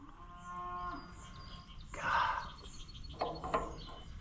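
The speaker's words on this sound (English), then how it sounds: "Oh, cows. I don't know what your problem is, but you don't need to sit here making noise all the time." Cows on a farm low and moo in drawn-out calls, two or three distinct bellows at moderate distance, with faint bird chirps and quiet background ambience between them.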